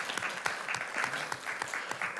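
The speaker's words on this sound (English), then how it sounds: "Give my neighbor Pat a round of applause." A room of listeners at a talk on education and Black educators applauds a neighbor named Pat, a moderate crowd clapping steadily with crisp individual claps audible, no voices over it.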